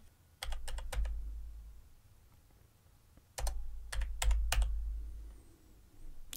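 Two quick bursts of keyboard typing, a handful of crisp key clicks each, separated by a quiet pause, close and fairly soft.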